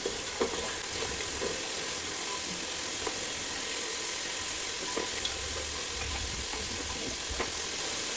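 Chopped onion softening in a pan with mint leaves for a Ceylon coconut pulao, a continuous close sizzle with occasional sharp clicks of a utensil against the pan and no talking.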